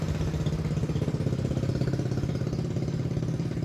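A Bajaj CT100 motorcycle with a repaired fullwave stator runs steadily nearby, its small single-cylinder engine chugging in an even, throbbing idle with a rough mechanical rattle throughout.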